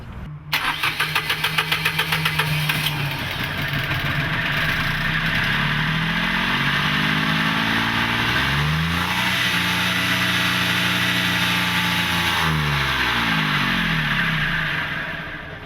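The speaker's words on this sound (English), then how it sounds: "we're going to fire up the generator, show you that the generator runs" Generator aboard a 1999 Maxum 3000 SCR Sun Cruiser boat cranks briefly, catches and starts, then runs steadily and loudly close by, its engine tone shifting in pitch as it settles into a continuous hum.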